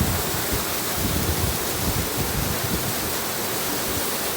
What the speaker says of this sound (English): Friends are sitting there and enjoying the waterfall and its sound.